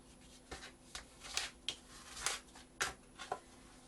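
Paper pages of a wedding guest book are folded by hand, making faint, crisp creases and rustles in an irregular series of about eight soft strokes in a quiet room.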